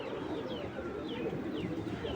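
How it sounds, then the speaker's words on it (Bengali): A large male Giribaz pigeon of an old breed coos in soft, repeated rolling calls, close by and at a moderate level. "খুব সুন্দর একটা কবুতর, এক হাত সাইজের আছে।"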